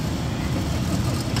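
A 1992 Chevy Stepside truck rolls through an outdoor car and tractor show, a steady low engine rumble close by under broadband outdoor noise.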